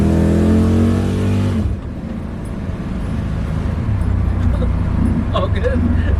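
Car cruising down the road after a few miles of driving, a steady loud engine drone and road rumble filling the cabin, with a person talking over it at the start.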